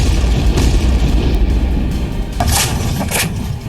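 Artillery guns fire in a ceasefire violation on the Pakistan border, sending several heavy, sharp booms over a continuous rumbling background.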